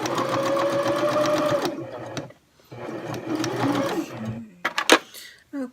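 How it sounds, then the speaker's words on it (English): A sewing machine stitches slowly through many layers of fabric along the bottom of a craft show apron, with two runs of rapid mechanical chattering separated by a pause, then a few short clicks and thumps. "We're going to stitch along the bottom here. I'm going to start off very slowly because we have so many layers of fabric"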